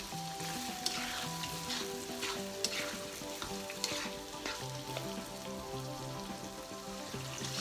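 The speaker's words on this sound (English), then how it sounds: "give it a little stir" Curried beef sizzles and fries steadily in a pot while being stirred, with scattered scraping clicks of the spoon over the continuous crackle.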